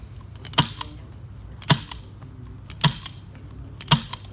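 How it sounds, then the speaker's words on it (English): A staple gun fires into duct covering on an air elbow duct, four sharp snapping shots spaced about a second apart, each with a small follow-up click, close and with no talk. "Look how with the staple gun I try to pull the slab of covering before sealing the rest of junctions."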